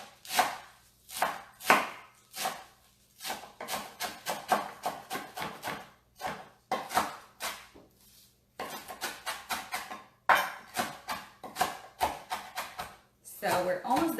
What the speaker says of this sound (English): So we're almost done chopping here.